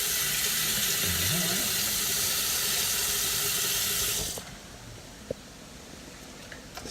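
Tap water runs steadily into a sink during a nasal rinse, a broad hiss that cuts off abruptly partway through, leaving a quiet room with a faint tap or clunk afterward.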